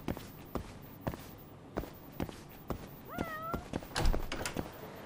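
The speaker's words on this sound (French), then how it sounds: "Ah, j'entends un chat." Footsteps patter steadily in the video game Judgment, then a cat lets out a clear, close meow midway, followed by more quick steps.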